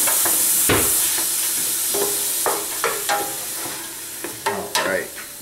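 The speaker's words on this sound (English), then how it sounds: "Going with a little stir." Meatballs in marinara sauce being stirred in a pot on the stove, with scattered scrapes and soft clinks of the spoon against the pot over a low steady simmer, no talking.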